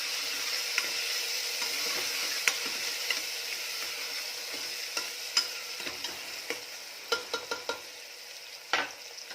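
Onions frying in a pan until browned, just before tomato is added for an eggplant and pavta bean curry: a steady, close crackling sizzle with scattered sharp ticks and pops, no talking.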